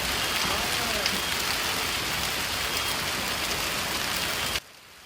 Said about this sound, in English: sounds like that may have woken you up last night as hail was falling over central Ohio